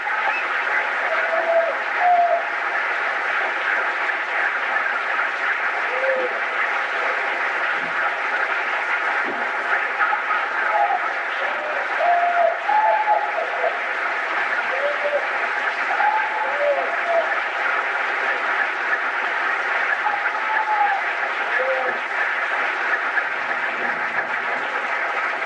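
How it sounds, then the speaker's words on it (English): Sustained audience applause fills a film screening venue, a dense, even wash of clapping from a large crowd throughout, with scattered voices and faint cheers mixed in. "Following the audience applause"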